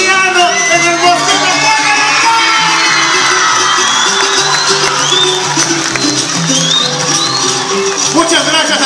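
Festival crowd at a live music performance, dense and loud throughout, with whoops, cheers and shouting layered over sustained clapping and a band-like tonal wash, several voices calling out close by.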